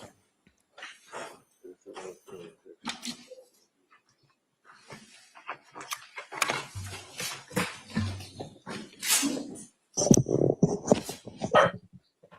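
A dog named Percy whimpers and gives scattered short barks indoors, the sounds coming in uneven bursts with pauses between them, while people talk faintly nearby.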